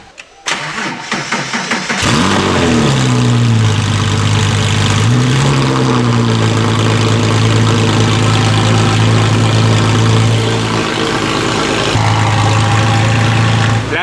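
A Porsche rally car with a pop-and-bang tune cranks and fires up loudly, then settles into a steady, deep idle with a couple of brief revs. It runs alone and close, without talk.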